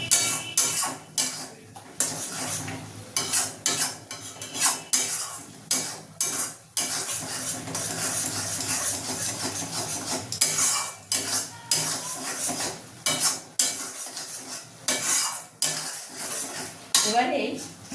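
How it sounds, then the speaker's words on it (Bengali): Masala stirred in a pan until the oil separates for a Bengali chicken chaap, with continuous scraping of a spoon against metal, clinks and soft sizzling in a busy, uneven rhythm, close and with no speech. "এটাকে আমি নাড়াতে থাকবো যতক্ষণ না এটা থেকে তেলটা বার হচ্ছে"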